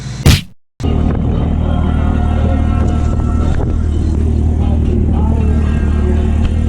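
A loud 2019 Corvette ZR1 engine idling and rumbling steadily close by, after a brief sharp knock at the start.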